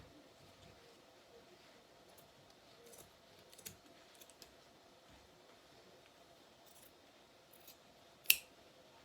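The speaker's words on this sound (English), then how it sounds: "I'm going to trim down here, so get rid of all this excess" Scissors trimming away excess material, a quiet scene of faint, sparse snips and light handling with one sharp, distinct cut near the end.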